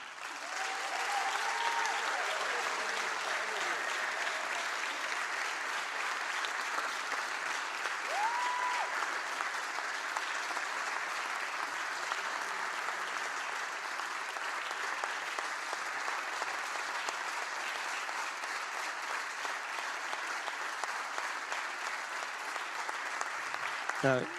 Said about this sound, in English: let's have a big cheer for Karima, Danielle